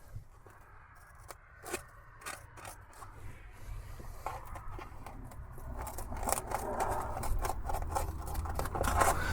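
Marine grade vinyl soft cab material for a UTV enclosure being cut, with repeated snipping and scraping strokes that grow denser and louder toward the end, close by.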